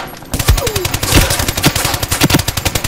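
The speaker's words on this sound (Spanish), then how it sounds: "él me dispara por arriba" Rapid bursts of M240 LWS machine gun fire ring out in Ironsight gameplay, loud and close, with a fast rhythmic string of shots after a brief quiet start.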